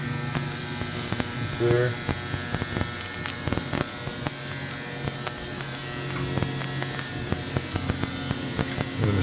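An ultrasonic blind cleaning machine runs with a loud, steady electrical hum and buzz, close and constant throughout, while someone speaks briefly over it.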